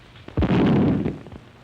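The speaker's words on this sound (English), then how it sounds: "But what were those explosions? Shells, my dear." Artillery shells explode in a 1931 pre-Code film soundtrack, a sudden heavy blast followed by a loud rumbling roar that sustains for most of a second, then fades into a distant crackling tail.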